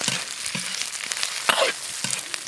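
Pork liver and potato strips stir-fry in an oiled wok with scallion, ginger, garlic and dried chilies, giving a steady close crackling sizzle broken by short scraping and tossing sounds.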